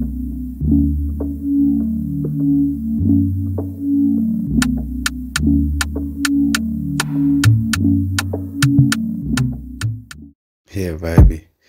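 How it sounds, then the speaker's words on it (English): A percussion loop pitched down an octave and lowered in volume sits in an afro x R&B beat, a steady low throbbing groove with repeating clicky ticks over it, cutting out briefly near the end. "I'm gonna add this perk loop"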